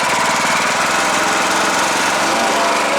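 The small engine of a Silverlake 450 hydraulic post pounder, sitting unused for six years, revs loud and close in a dense, buzzing, steady roar that runs throughout.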